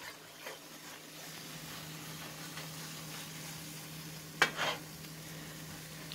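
Scrambled eggs with cheese sizzling in a pan as they are stirred, a steady soft frying hiss with faint scrapes and one sharper clatter of the utensil near the end.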